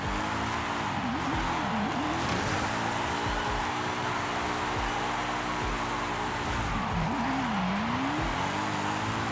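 A drifting car in Forza Horizon 5 holds its engine against the rev limiter, a loud, steady buzzing drone stuttering in rapid rhythmic cuts, with pitch dips and rises near two and seven seconds and faint tire noise underneath.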